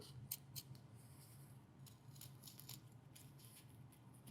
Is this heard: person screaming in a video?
no